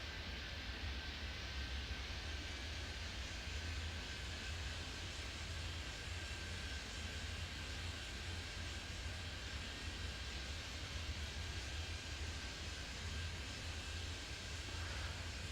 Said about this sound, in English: Three planes taxiing for departure.